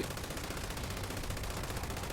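Sustained, dense automatic fire from an MG42 light machine gun in Fallout 76, a continuous loud rattle of rapid shots with no pauses and no talking over it.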